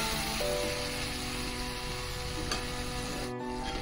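Cabbage curry simmering gently over a low flame gives a steady, soft bubbling sizzle that runs unbroken throughout, close by and fairly quiet, with no voices.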